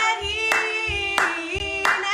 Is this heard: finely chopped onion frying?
no